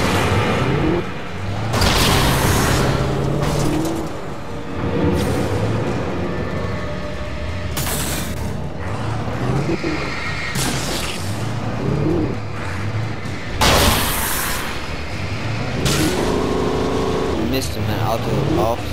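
A car drives in the video game Alan Wake, its engine and road noise running steadily throughout under someone talking, mixed with other dense game sounds.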